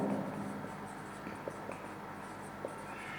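Pen or chalk scratches faintly in short strokes while the road area calculation is written out during a maths lesson, a few soft taps and scrapes over low background hum.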